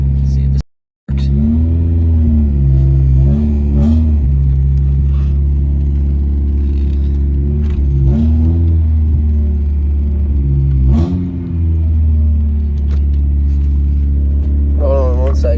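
An Acura DA Integra drives along with a steady, loud engine rumble and low drone, a few rising revs as it pulls away, and a person talking over the engine noise.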